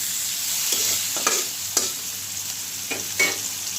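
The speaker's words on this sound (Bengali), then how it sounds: "পেঁয়াজটা আমি হালকা একটু ভেজে নেব।" Onion frying lightly in oil, a steady soft sizzle punctuated by several scraping stirs of a spatula against the pan.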